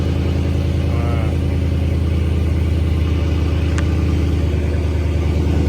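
A Dodge Charger Scat Pack's engine runs steadily at idle nearby, a loud, deep, continuous rumble with no revving.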